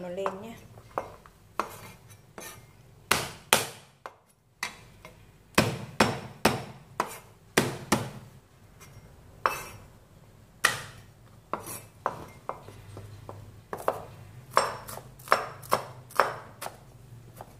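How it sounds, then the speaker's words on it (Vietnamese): A knife chops shallots and garlic on a cutting board in steady, sharp, close knocks, some in quick bursts, with brief pauses and faint background noise. "Các bạn băm cho mình nhỏ hành thơm và tỏi để mình phi thơm nó lên nhé."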